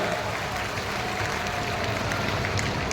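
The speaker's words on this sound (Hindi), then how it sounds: "एक बार ताली तो बजाओ ना, कैसा लगा?" A crowd at a CM Bhajan Lal rally in Bhakri claps steadily, dense and continuous applause filling the whole moment at an even, loud level with no pauses.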